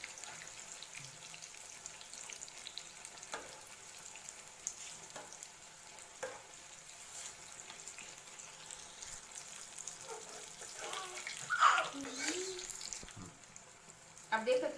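Homemade veg spring rolls fry in hot oil in a pan, giving a soft continuous sizzle close by with occasional utensil clinks, and a voice briefly speaks near the end.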